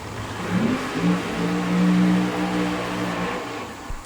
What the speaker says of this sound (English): the world's fastest radial nitrous oxide assisted car is in the right lane